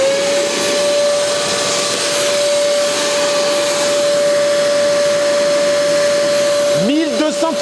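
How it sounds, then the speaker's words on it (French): A 1240-watt construction-site vacuum cleaner runs loud and steady with a constant whine and airy roar, then changes pitch near the end as it winds down or shifts load. "Ah, j'ai mon aspirateur de chantier."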